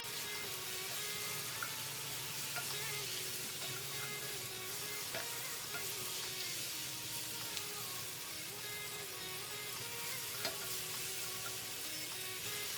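Carrots and onions fry in a pan for broccoli cheddar soup, a continuous soft sizzle and crackle with a faint underlying hum and occasional small ticks, quiet and unbroken, with no talking.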